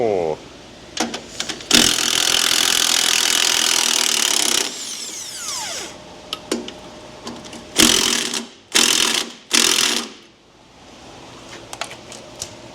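Ratchet and tools working bolts loose on a Duramax diesel engine in a garage, with a long sustained whirring run followed by several short, loud bursts and scattered metallic clicks, a person talking at times.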